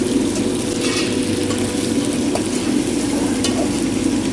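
Tomatoes frying in hot oil in a pan for a North Indian style chicken curry, giving a steady, close sizzle and bubbling with a few soft stirring clicks and no talking.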